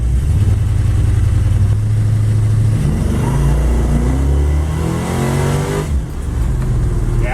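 A Plymouth Duster with a 318 V8, 904 transmission and aftermarket torque converter revs hard on takeoff during a road test. The loud, close engine roar climbs steadily in pitch with no talk.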